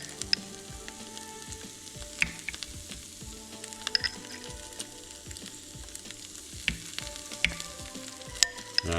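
Chaffle batter of egg, cheddar and jalapeno Havarti cheese with chopped olives sizzles and crackles steadily in Dash mini waffle makers, with a continuous frying hiss and scattered sharp pops.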